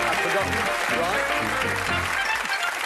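Studio audience applauding on a darts-themed UK TV game show, dense clapping throughout with a host talking over it.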